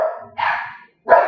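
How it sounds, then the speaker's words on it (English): Dogs barking in short bursts, several close, loud barks separated by a brief pause, with no talk over them. "Those are my dogs."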